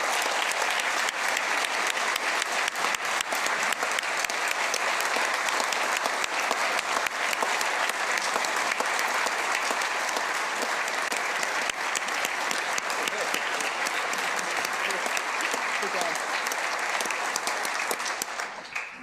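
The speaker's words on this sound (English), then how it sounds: "Would you all mind giving Commissioner Jim Terwilliger and his team a round of applause for their fantastic work?" Sustained audience applause fills the room, a loud, dense and even wash of many hands clapping that holds steady for the whole stretch before easing slightly at the end.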